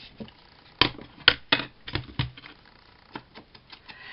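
A die cutting machine clatters and thumps in an irregular series of sharp mechanical knocks and ratchets, close and fairly loud.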